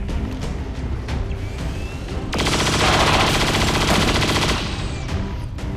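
XCOM 2 video game gunfire in a swamp fort mission: a sustained rapid burst of automatic fire lasting about two seconds, loud and close, over a low ambient game backdrop.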